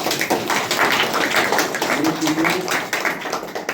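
A church congregation claps in praise to the Lord, a dense, lively patter of many hands at close range with a voice speaking over part of it.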